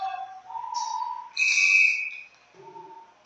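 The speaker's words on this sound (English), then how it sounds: "And now a whistle as a Valcartier player went down." A referee's whistle sounds at an ice hockey championship semi-final, a few distinct shrill tones of varying pitch, fairly clear against a quiet rink background.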